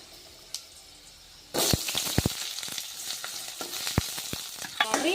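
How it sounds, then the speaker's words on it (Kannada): Onion and curry leaves drop into hot oil with mustard seeds, garlic and chana dal for a huli rice tempering. After a quiet start, a sudden loud sizzle bursts out and carries on with sharp crackles and pops. "ಈರುಳ್ಳಿ ಹಾಕಿದ್ದೀನಿ. ಚೆನ್ನಾಗಿ ಗೋಲ್ಡನ್ ಕಲರ್ ಬರೋವರೆಗೂ ಫ್ರೈ ಆಗಿದೆ"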